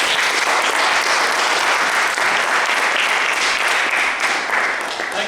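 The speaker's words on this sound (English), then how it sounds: "Please give a big round of applause." Sustained, dense applause from a large audience at a prize-giving event, loud and continuous throughout with no voices over it, easing slightly near the end.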